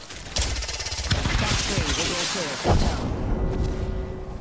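Rapid automatic gunfire in Apex Legends, loud bursts with explosive booms and in-game sound effects layered over a dense, busy mix.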